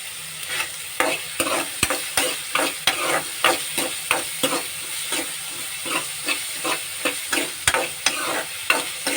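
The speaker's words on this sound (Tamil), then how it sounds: "அதுக்கு தேவையான அளவுக்கு உப்பு நம்ம இதிலே போட்டு வதக்கிடலாம்" Egg frying with onion, tomato and salt is stirred in a pan, giving steady loud sizzling with a regular rhythm of spatula scrapes and taps throughout, with no talking.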